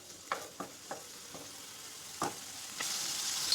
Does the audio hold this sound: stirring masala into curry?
yes